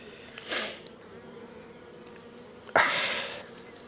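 Honey bees buzzing at an open hive on a farm in May: a soft continuous hum of many insects, with two louder close passes as individual bees fly near, and no talk over it.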